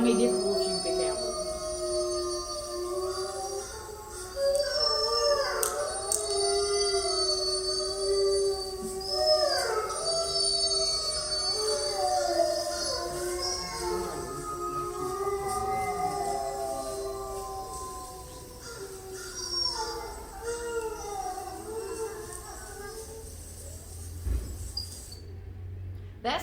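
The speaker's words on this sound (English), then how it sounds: "That's the length of a normal howling." Several wolves at Bays Mountain Park howl together in a long chorus of overlapping rising and falling wails, with distinct voices sliding up and down for the whole stretch, fairly close and loud, with a low rumble under the end.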